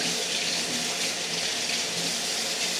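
Tap water runs steadily over a kitchen knife as it is rinsed after chopping mushrooms on a board, a continuous close splashing wash with no talk.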